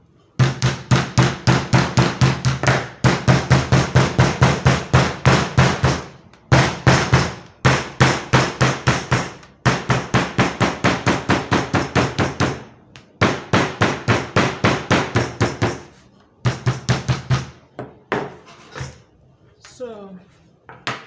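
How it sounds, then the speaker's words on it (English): Steel hammer blows on a glued leather zip-around wallet, struck in rapid, even bursts of close, loud knocks with short pauses between runs, lighter taps toward the end. "So you use your hammer and hit it down very well."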